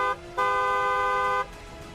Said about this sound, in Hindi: हॉर्न बजाएं।